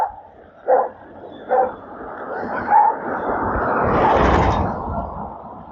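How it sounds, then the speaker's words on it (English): A dog at a rural property where dogs are raised for sale gives a few barks, two sharp and one softer, against steady outdoor rumble from a moving electric trike ride. "hopefully the dog's not going to bother too much"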